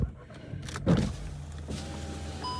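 The power windows of a sun-heated car whir as they open. Soft motor hums and clicks follow a louder thump, and the glass keeps sliding down steadily afterward. No one speaks.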